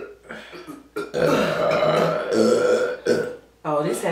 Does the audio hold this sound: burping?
yes